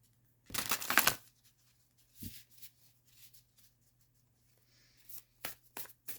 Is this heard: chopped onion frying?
no